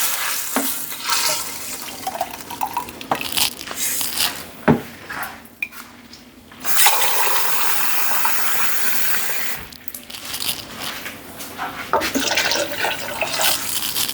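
Water pours into a pot of rice being prepared for cooking, a steady splashing and trickling that runs through most of the stretch with a few short breaks, close and moderately loud.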